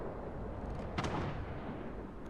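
One salvo from the naval cruiser Cleveland's guns booms out in World of Warships, a single crisp report trailing into a brief rumble over a constant low background hum of battle.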